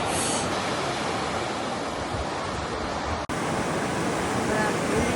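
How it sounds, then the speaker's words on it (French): Strong ocean waves break at a surf beach on an Australian coastal road trip between Brisbane and Cairns, a loud, steady wash of surf that continues without pause and has no talking over it. "Les vagues, je ne dirais pas, mais elles sont fortes."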